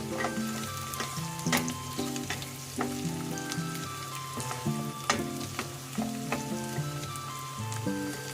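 Garlic sautéing in a pan for adobong pusit: a continuous sizzle with repeated clicks and scrapes of a spatula stirring at irregular intervals, close and clear, with no talking.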